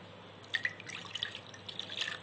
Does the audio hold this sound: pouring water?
yes